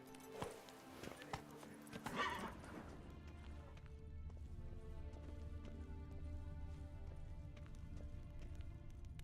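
Roach, a horse in The Witcher 3 video game, gallops with rhythmic hoof clip-clops, most distinct in the first seconds before fading under a steady low rumble of game ambience, with a voice speaking over it.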